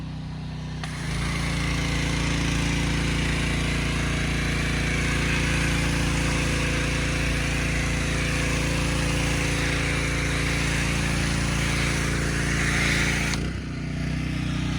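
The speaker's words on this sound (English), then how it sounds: "I usually mute out the power washer sound, but I'm gonna leave it." A power washer runs steadily and loudly while a Mercedes-Benz is washed, a continuous motor drone with hissing spray lasting almost the whole stretch, starting and cutting off at the ends, with no talk.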